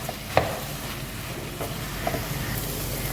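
Raw tomato and moong dal curry is stirred in a hot pan, producing a continuous close sizzle with a soft scrape and a knock near the start and a few lighter taps later.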